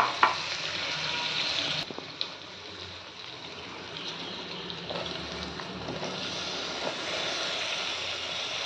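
Beans, potato and kohlrabi fry in a little oil, a steady close hiss and crackle running throughout, with a faint clink or two near the start.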